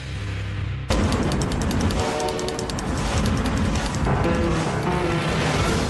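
A loud, steady rumble of a New York City subway train running on the rails, with clattering and metallic squeals throughout, starting abruptly after a quiet opening moment.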